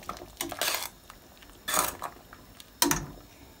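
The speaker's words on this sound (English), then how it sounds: "take out the cinnamon stick and give that a stir" Metal spoon clanking against a pot while a cinnamon stick is lifted out of Jamaican sorrel drink, three separate bursts of scraping and clinking with quiet gaps between them, close by.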